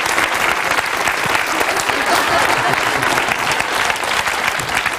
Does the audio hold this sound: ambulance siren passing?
no